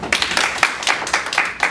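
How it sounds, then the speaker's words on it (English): A school audience clapping, a quick, rhythmic run of close, loud handclaps in a steady pattern, like a group keeping time together. "Why are you clapping?"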